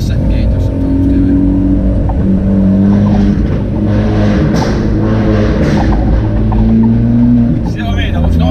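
A Citroen C2 engine revs loudly in second gear from inside the car, droning and rising with sharp pops and crackles from the exhaust, while a person talks over it.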